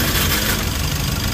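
Mitsubishi L300 Euro 4 van engine idling steadily at close range, a continuous low rumble with no speech over it.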